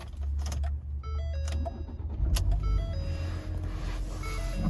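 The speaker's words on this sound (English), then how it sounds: "I'll go ahead and start the vehicle up for you." A 2012 Ford Fusion SE starts up from inside the cabin: electronic chimes and soft clicks, then the engine cranks and settles into a low, quiet idle.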